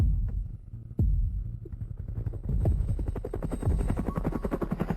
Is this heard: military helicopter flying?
yes